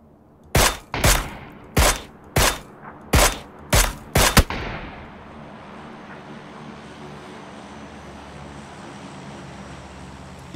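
Seven loud, evenly spaced gunshots ring out in PUBG, each sharp crack followed by a short echo, then the shooting stops and leaves a quiet ambient hum.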